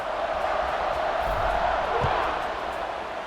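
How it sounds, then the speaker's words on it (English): A simulated college football stadium crowd in a video game buzzes after a touchdown, a steady, dense murmur of many voices with occasional shouts and a low thud, holding at an even loudness throughout. "this crowd is buzzing after that last score"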